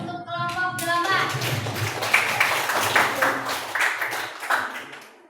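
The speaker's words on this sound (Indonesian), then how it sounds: "Kita berikan tepuk tangan dulu untuk kelompok 8" Classroom applause for a student group, a burst of many hands clapping steadily for about five seconds, fairly close, with children's voices chattering underneath and fading at the end.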